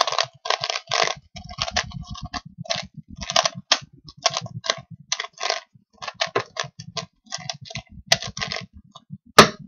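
A Rubik's cube being scrambled fast, its plastic layers clicking and clacking in rapid irregular bursts with brief pauses, close and fairly crisp, no voices.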